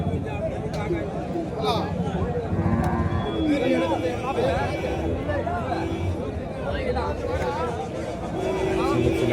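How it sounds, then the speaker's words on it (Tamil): Cattle and calves at the Matrapalli cow market in Tirupattur moo repeatedly, several animals near and farther off, over a steady market hubbub with people talking throughout. "சின்ன சின்ன கண்ணுக்குட்டிங்க"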